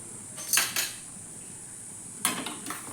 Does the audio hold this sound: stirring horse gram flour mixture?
yes